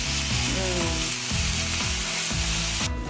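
Pork stir-fried in a pan for a Japanese-style pork rice bowl sizzles loudly and continuously, with rhythmic scraping knocks from stirring throughout.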